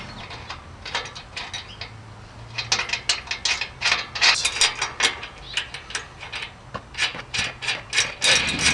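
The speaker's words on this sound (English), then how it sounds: "lastly, we put on the M10 nuts." Hand threading of M10 nuts onto the mounting brackets of a truck bull bar on a Chevy Silverado, a close series of quick rasping, ratcheting metal clicks in irregular bursts, with no talking.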